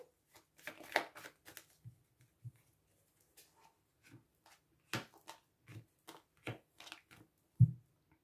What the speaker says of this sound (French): j'ai remélangé les cartes plusieurs fois